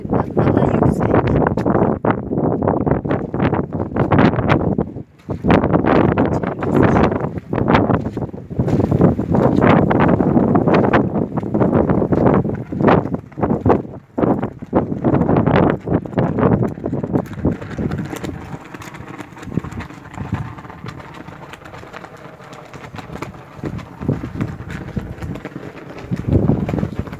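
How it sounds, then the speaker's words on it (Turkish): Strong wind at the high-altitude Boyabat castle buffets the microphone in heavy, gusting roars that drop out briefly, then ease to a lighter rush near the end. "Bayağı rüzgar sesi var. Hatta rüzgarın sesi benim sesimden daha yüksek."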